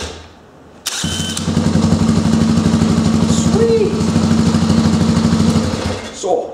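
A drill spins a small engine through a starter drive, a sudden start into a rapid, even mechanical chugging that runs steadily for several seconds and then winds down, loud and close, with one brief spoken word.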